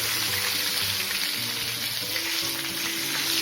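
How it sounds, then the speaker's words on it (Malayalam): Chicken vada frying in hot oil makes a steady, bubbling sizzle with a continuous crackling hiss, close and even across the whole stretch, with no talking. "ചിക്കൻ ഒന്ന് നന്നായിട്ട് വേകുന്ന വരെ നമുക്കിതിനെ ഫ്രൈ ചെയ്തെടുക്കേണ്ടതായിട്ടുണ്ട്"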